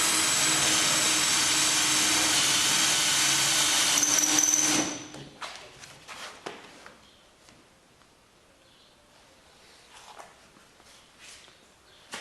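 A power drill bores through a MirroCraft boat hull, whining loudly and continuously for about five seconds before cutting off, followed by scattered knocks, handling clatter and quiet movement.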